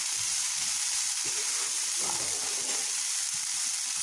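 Masala green gram sprouts with chopped coriander sizzle steadily in a pan, a constant close frying hiss with faint stirring scrapes and no talking.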